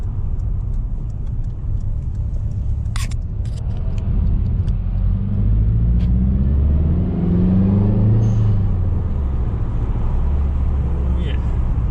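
A Subaru WRX fitted with a new blow-off valve rumbles low, and a sharp, brief hissing burst vents early on, followed by a few faint ticks while the deep engine drone swells and eases.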